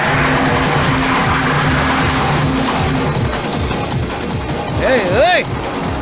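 A car driven fast in a movie chase, with a loud roaring engine, screeching tires and skids throughout, dense and close, with voices and music mixed in.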